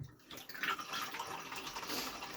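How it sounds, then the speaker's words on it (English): Hot water runs from a bathtub tap into a bucket, a steady close rushing splash that starts abruptly and continues evenly without pause. "I have to fill the bucket first"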